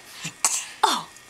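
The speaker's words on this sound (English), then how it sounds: "That's a fake cough." A baby makes a few short fake coughs, three brief throaty bursts spaced apart, close and fairly soft with no talking.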